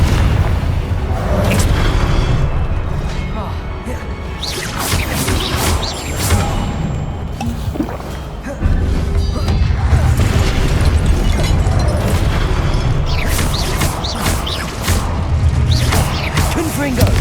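Repeated Confringo blasting-spell explosions in Hogwarts Legacy, a series of heavy booming bursts with crackling debris and rumbling tails, loud and close, firing in irregular succession over a dense battle background.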